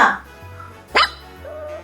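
A person imitates a puppy, giving a short high yelping bark between stretches of quiet, with a steady low hum underneath.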